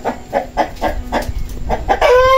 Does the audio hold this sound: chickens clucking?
yes